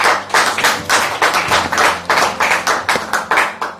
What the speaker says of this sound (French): Acclame bien, ne sois pas suspect, acclame bien, acclame bien